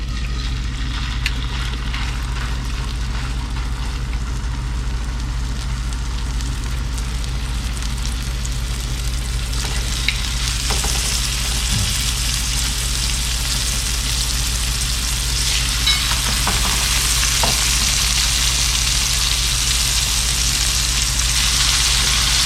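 Stingray pieces sizzle on a grill on a breezy pier, a steady crackling fry with occasional louder pops, under constant wind rumble and no talk.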